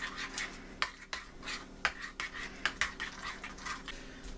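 Garlic being stirred into a sauce with a utensil in a pan, giving soft scraping and a series of light clinks and taps against the cookware at close range.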